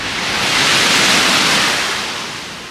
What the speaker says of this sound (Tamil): அந்த அலல் சத்தம், அலை சத்தம்